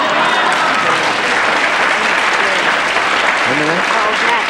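Studio audience at a television talk show applauding, a steady, even roar of clapping throughout, with a voice faintly audible beneath it.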